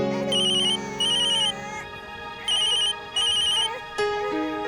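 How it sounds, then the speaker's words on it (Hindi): A mobile phone ringtone plays a repeating electronic melody with bright, beeping high tones in bursts, loud and close, as a call from a mother comes in; no one speaks over it. "माँ का फोन आ रहा है।"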